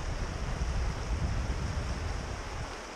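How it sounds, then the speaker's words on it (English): Fast-flowing creek water on Penns Creek during spring fly fishing, a steady, dense broadband rush close to the microphone with no voices. "Look at that, see the super fast water they're in."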